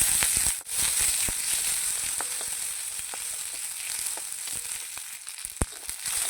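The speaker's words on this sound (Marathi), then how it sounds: "कांदा लालसर झाला की त्यावर टोमॅटो, लसूण आणि आलं हे सुद्धा आपण व्यवस्थित भाजून घेऊया" Tomato, garlic and ginger roast in a pan over browned onion for a Kolhapuri mutton rassa masala, giving a steady close sizzle with scattered crackles and pops and no one speaking.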